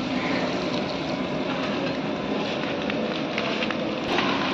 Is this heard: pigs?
no